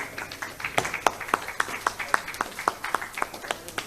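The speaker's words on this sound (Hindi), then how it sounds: "आप दोनों का हम अभिनंदन कर रहे हैं मंच पर जोरदार तालियों के साथ।" Sparse, distinct hand claps at a stage welcome in Indore, spaced in a loose rhythm of roughly a dozen claps, fairly quiet against the room tone.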